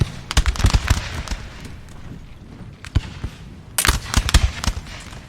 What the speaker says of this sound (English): The first volley is going off from the Danish.